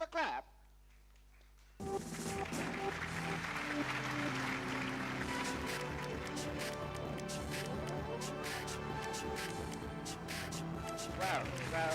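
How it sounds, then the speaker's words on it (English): Steady applause from an audience at a quiz competition rises after a brief quiet opening and continues at even strength throughout, with some voices mixed into the crowd noise. "Give them a clap."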